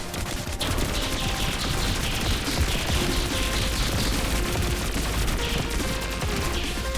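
A turret in the video game Pathogenic fires in a dense, rapid barrage, a loud continuous crackle of shots with faint higher chirps layered over it and no talk.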